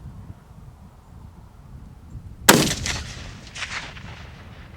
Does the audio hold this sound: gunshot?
yes